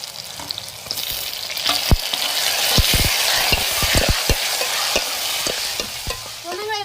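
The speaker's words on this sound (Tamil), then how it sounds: "நம்ம வெட்டி வச்சு தக்காளி எண்ணெயிலே சேர்த்து வதக்கிடுவோம்." Chopped tomatoes sauté in hot oil with onion, garlic and green chilies for an onion kara kuzhambu, a bright, crackling sizzle broken by frequent sharp spatula scrapes and taps against the pan.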